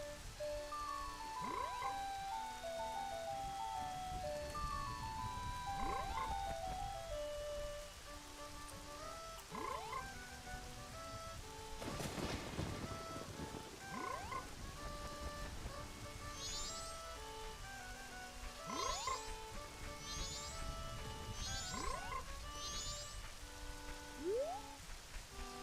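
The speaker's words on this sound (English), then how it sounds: "Ribbit. Ribbit." Frogs croak steadily in a rainy scene from the video game Zelda: Majora's Mask, with repeated chirping calls layered over continuous rain patter and looping ambient game sounds.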